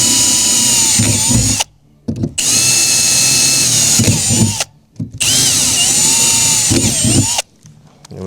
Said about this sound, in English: it's easy to drill because the roof isn't flexing